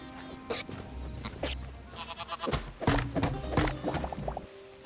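A sheep in the video game Hytale bleats several times in short wavering calls over soft in-game ambience and faint footstep-like clops, with no one talking.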